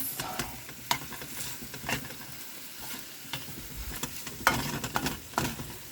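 Seasoned food sautéing in a pan, a soft close sizzle broken by irregular stirring scrapes and utensil knocks, with no voices.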